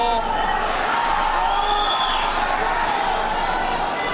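Large weightlifting competition crowd during a super-heavyweight jerk, a steady roar of murmuring and cheering that stays loud throughout, with a commentator talking over it.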